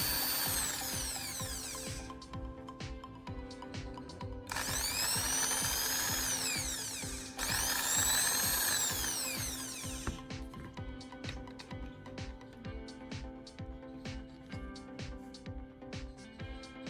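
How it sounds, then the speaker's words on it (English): Sandpaper scrapes a carbon rod to a fine point in bursts of coarse rasping strokes, broken by stretches of rapid clicking and ticking. "Using a piece of sandpaper, I'm sharpening the carbon rod into a very fine, precise point"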